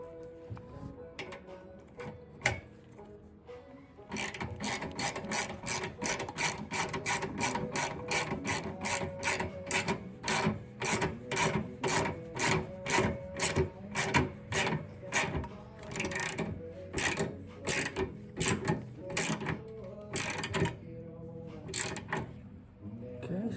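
A ratchet wrench clicks rapidly and steadily as it tightens a 15 mm bolt on the muffler clamp under a 2019 Indian Chieftain Limited. Close, crisp repeated clicks come in bursts after a quieter start.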